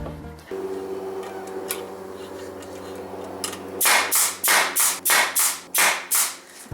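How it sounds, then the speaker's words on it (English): A brad nail gun fires into a glued wooden joint, about eight sharp, close pops in a quick, even rhythm after a stretch of low hum and light handling noise. "Now I can make sure that it's square and use the nail gun."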